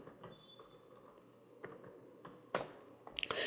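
Typing on a computer keyboard while filling in a fee registration form in Excel: soft, quiet key taps in an uneven rhythm, growing to a few louder, sharper clicks near the end, with no voices.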